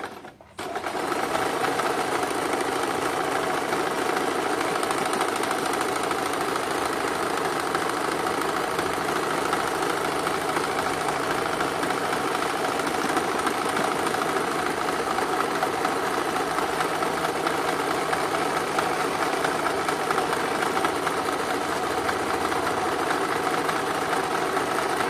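A normal home sewing machine stitching cutwork embroidery runs loud and steady close by, a continuous motor whir with needle chatter that starts after a brief pause and holds for the whole stretch.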